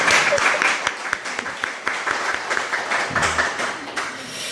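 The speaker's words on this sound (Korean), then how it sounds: "우리 반주하신 분들을 위해서 다시 한번 박수를 한번 해주세요." A church congregation applauds during a Sunday service, giving a dense burst of clapping that fades into scattered claps with some voices mixed in.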